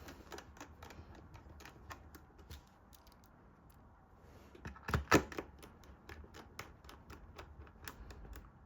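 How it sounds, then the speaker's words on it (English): Small screws being driven into a Lenovo Legion Go 2 handheld console: faint, close clicks and ticks in an irregular rhythm, with a brief louder cluster of metallic scraping and clicking partway through. "Put these screws in."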